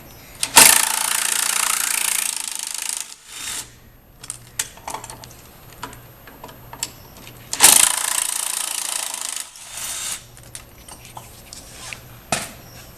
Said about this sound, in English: Now, 3/16 Allen socket. We're going to remove the 2 bolts holding the coil in.